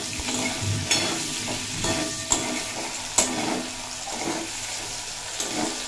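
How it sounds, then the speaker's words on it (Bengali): Okra frying in hot oil with turmeric and salt sizzles loudly and continuously up close, with occasional scraping stirs and light clicks of a utensil against the pan. "ভেন্ডিগুলো খুব ভালোভাবে ভাজা হয়ে গেছে"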